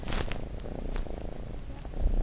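A female orange cat purrs steadily and close, a continuous low rumbling throb that runs without pause for the whole stretch.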